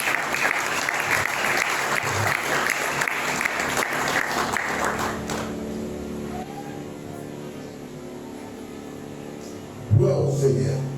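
A church congregation claps loudly together for about five seconds before the applause fades into a quieter room murmur, followed by a short bump of sound near the end.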